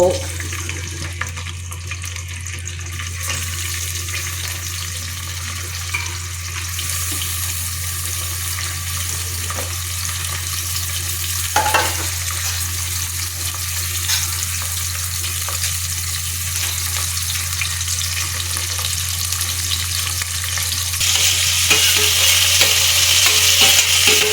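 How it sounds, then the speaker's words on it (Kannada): Masala, long-cut green chillies and onions frying in oil while being stirred, a steady close sizzle with intermittent scraping and stirring that grows slightly louder toward the end, with no talking. "ಆಯಿಲ್ ಹಾಕಿ ಈ ಮಸಾಲೆ ಐಟಮ್ಸ್ ಎಲ್ಲ ಹಾಕಿ ಮಿಕ್ಸ್ ಮಾಡ್ಕೋಬೇಕು ಹಸಿರು ಮೆಣಸಿನ್ಕಾಯಿ ಎರಡು ಉದ್ದ ಕಟ್ ಮಾಡಿರೋದು ಆನಿಯನ್ಸು"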